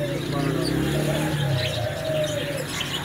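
A common lutino lovebird breeder pair chirps and tweets in short bursts amid background murmur and voices.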